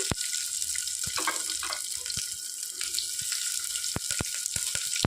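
Chopped onions drop into hot oil in a pan already holding fried curry leaves for a brinjal and tomato dish, giving a steady close sizzle broken by sharp crackles and pops.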